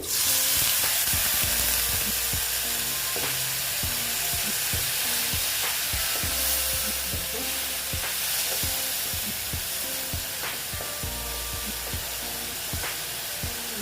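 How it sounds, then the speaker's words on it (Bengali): Coriander and cumin powder spices fry in a pan as water goes in, giving a loud, steady sizzle with broad hiss and scattered utensil clicks throughout, easing slightly toward the end, with no talking. "দেখো ধনের গুঁড়ো আর জিরের গুঁড়ো দিয়ে দিলাম জল দিয়ে দিচ্ছি"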